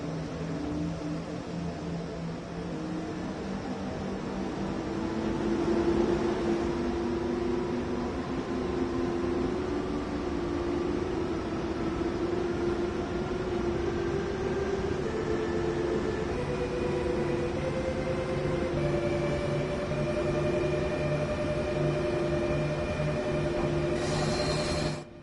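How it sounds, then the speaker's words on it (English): Electric traction motors of a German regional train on the Hamburg–Lübeck line in a train simulator hum in rising, piano-like tonal steps as it accelerates, with a steady rail rumble underneath and no talk. "I like the traction motor sounds."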